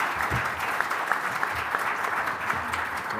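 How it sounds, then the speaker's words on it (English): Audience at a fireside chat with FCC Commissioner Anna Gomez gives a steady round of applause, even and sustained across the clip with no talk over it. "Round of applause for Commissioner Gomez."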